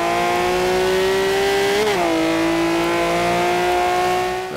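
A Ferrari engine in the racing game Forza Horizon 2 holds a loud, sustained tone, with a quick dip and shift in pitch midway before the drone settles and carries on.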